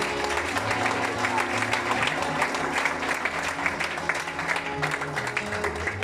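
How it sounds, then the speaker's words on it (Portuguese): A church congregation claps together during a missions service, with sustained crowd applause and faint voices or music underneath, holding a fairly even level throughout. "Você pode aplaudir Jesus Cristo por esse momento?"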